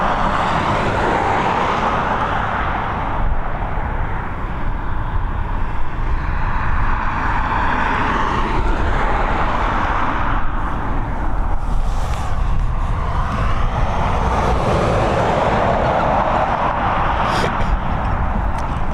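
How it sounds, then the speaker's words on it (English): An Airbus A320 airliner at Dublin Airport gives a loud, continuous jet roar that swells and shifts as the aircraft moves past, with broad rushing engine noise throughout. "this Airbus A320 heading over to Lanzarote"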